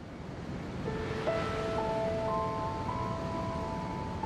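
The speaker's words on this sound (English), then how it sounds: "You hear that wave that just hit right now?" Ocean waves washing on a shore, a steady broadband roar of surf with faint tonal whines over it, continuous and moderately quiet with no voices.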